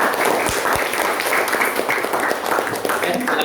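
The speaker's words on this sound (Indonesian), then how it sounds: "Beri tepuk tangan untuk kita semua." A class of schoolchildren gives a round of applause in a classroom, steady dense clapping throughout at close range with voices mixed in.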